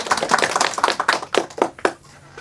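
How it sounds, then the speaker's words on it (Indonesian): Audience applause at an Indonesian school film festival talk show: a short burst of sharp, close hand claps that thins out and stops after about two seconds. "Yuk kita berikan aplaus yang meriah untuk Mr."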